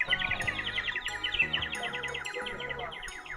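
Recorded birdsong played from a small bird sound device at a Delhi trade fair stall, a dense run of bright rapid chirps and tweets repeating steadily over low crowd murmur.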